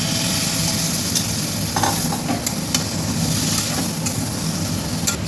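Jackfruit and prawn curry sizzles loudly in a pan while being stir-fried, a dense steady hiss with occasional clicks and scrapes from stirring, close by and with no voices.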